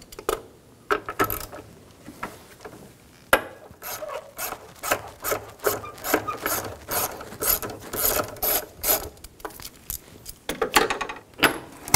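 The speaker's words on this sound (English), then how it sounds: "we're going to remove the bolts out of the airbox." Ratchet clicks and rattles from removing the airbox bolts on a 2013-2017 Honda Accord 2.4L, a busy run of close, rapid mechanical ticking and scraping with short pauses and no talk.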